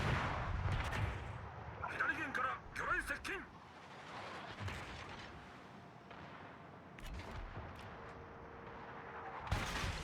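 Naval guns fire in a World of Warships destroyer fight, with several booming reports early on and another near the end over engine rumble and game sounds, while someone talks over most of it.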